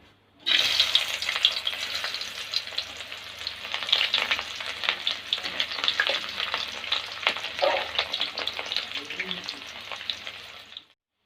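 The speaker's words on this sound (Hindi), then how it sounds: "ऑयल गर्म हो चुका है और अभी इसमें प्याज डालते हैं" Loud, steady sizzling of onions frying in hot oil, crackling continuously for several seconds with occasional stirring clinks, then stopping abruptly.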